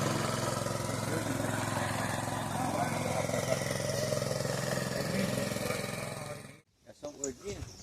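Two boat outboard motors drone loudly at full throttle during a fishing trip, a steady engine roar under talk for most of the stretch before cutting off abruptly near the end, leaving brief voices.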